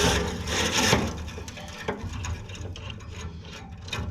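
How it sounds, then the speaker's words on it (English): Plastic poles from a Scandia 6-inch chimney flue cleaning brush kit are unscrewed up close, a continuous ratcheting, grinding clatter with small clicks and no talking. "you just keep on taking the poles off."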